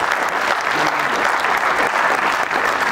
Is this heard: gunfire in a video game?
no